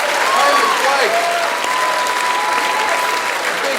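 Loud, dense ovation from a large awards-ceremony crowd for Gold Logie winner Hamish Blake, a continuous wash of clapping with a faint tonal hum running underneath.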